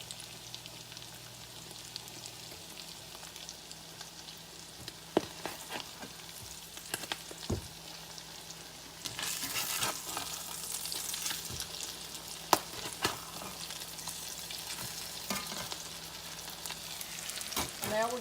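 Tuna patties frying in a pan, a close steady sizzle and crackle with occasional sharp pops and spatula scrapes, growing brighter and busier partway through as they are flipped.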